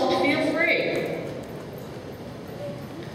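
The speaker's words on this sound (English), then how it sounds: "Western riders, go ahead and let your horses stride out a little bit for this exercise." Horses striding out during a Western riding exercise, soft hoof clip-clop in an arena under a brief opening stretch of speech, then quieter ongoing footfalls.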